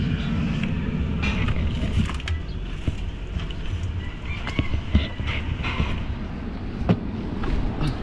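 A Mazda 3 with a freshly top-overhauled engine that shows strong engine vibration runs nearby as a steady low rumble, with scattered light clicks and knocks over the drone.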